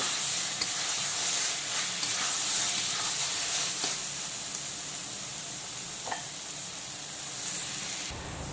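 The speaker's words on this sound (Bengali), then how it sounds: "এখন আলুগুলোকে আবারও 2-3 মিনিট একটু মশলার সঙ্গে কষিয়ে নেব।" Potatoes sauté with masala in a kadai, giving a steady, hissing sizzle that stays loud and close throughout, with faint stirring scrapes and no voices.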